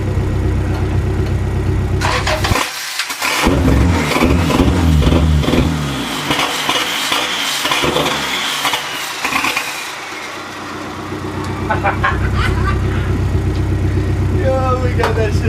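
Honda Civic EK engine cranking, catching and running, rising into loud revs that settle back toward a rough idle and then climb again, with people talking excitedly over it.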